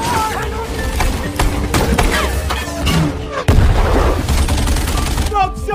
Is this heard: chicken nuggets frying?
no